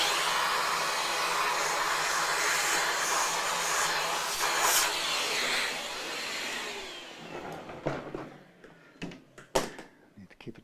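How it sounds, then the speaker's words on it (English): A vacuum cleaner run over an Ibanez Gio guitar to clear its dust gives a loud, steady whooshing roar for about seven seconds, then cuts off, followed by a few scattered knocks and clicks. "see if we can just vacuum off the dust a minute"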